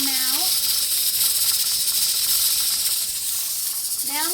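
A pressure canner processing green beans, its weight rocking with a steady, loud hiss of venting steam that continues throughout, with brief rising tonal whines at the start and end.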